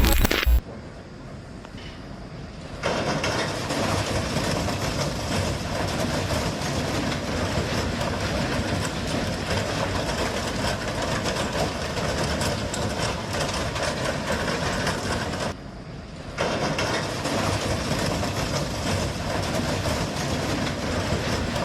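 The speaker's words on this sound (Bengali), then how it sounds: "মনে হচ্ছে ট্রেনটা পুরোপুরি থামার জন্য আর কিছুটা সময় লাগবে" A train rolls along with a steady loud rumble and rattling wagon noise, continuous throughout with a brief dip partway, as it works toward coming to a full stop.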